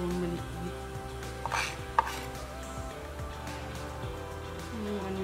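A knife chops garlic on a cutting board in quick, irregular knocks, fairly close and clear, with faint kitchen clatter and some talk behind it.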